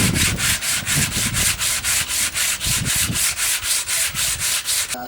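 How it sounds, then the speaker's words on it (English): Sandpaper of 60 grit rubbed back and forth over a wooden guitar fretboard, a steady rasping scrape in quick regular strokes, close and loud throughout with no talking. "So I've finished sanding it,"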